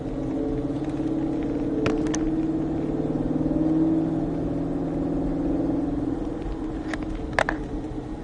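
A 2021 Mustang GT500 on the Folembray race circuit, its engine droning steadily with a low rumbling harmonic that swells slightly then holds at constant throttle, close and continuous, with faint knocks and clicks over it.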